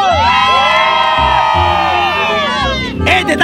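A loud circus crowd cheers and whoops together in a sustained burst of shouting voices, close and energetic, briefly dipping before swelling again at the end.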